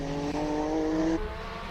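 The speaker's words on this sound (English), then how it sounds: "Oh, 4-wheel spinning there." A roughly 1600 horsepower race car at the Simola Hill Climb spins all four wheels, its engine holding a loud, rising tonal scream for about a second before it drops away, with tire noise underneath.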